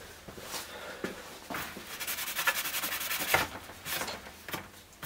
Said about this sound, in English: Bit of brake cleaner just to make sure that it's all nice and clean.